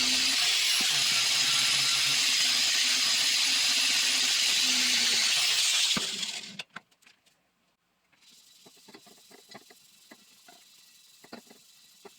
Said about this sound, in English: I took a wire wheel to the bench and weigh tubes to get the rest off